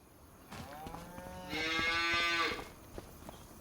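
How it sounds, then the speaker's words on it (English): A cow in a farming video game gives one long, loud, drawn-out moo, rising in the middle and then fading, with quieter game ambience before and after and no speech. "All right, so we got 30 cows total."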